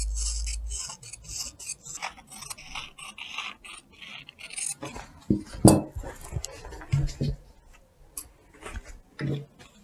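Scissors cut through fabric pattern pieces for wide-leg pants, close by, with irregular crisp snips and rasping slides of the blades, plus a few soft clicks and handling bumps in a quiet room.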